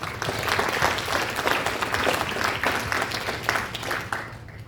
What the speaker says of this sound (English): So please give a round of applause for the directors of Freedom